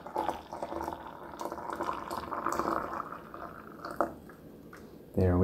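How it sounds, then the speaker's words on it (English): Hot water poured into a teapot to brew Liu Bao dark tea, a steady liquid splash and trickle running several seconds with small drips, close and moderately quiet, ending in a louder burst. "I'm going to fill the pot right up."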